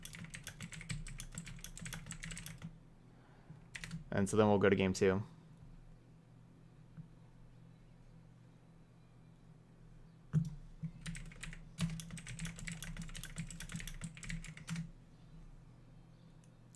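Someone typing on a computer keyboard during a streamed game match: rapid bursts of keystrokes at the start and again later, separated by a short spoken remark and quiet stretches.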